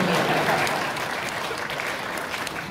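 A dense, steady wash of applause rises from an audience at a speech on the state budget, continuous and fairly loud throughout, without distinct voices.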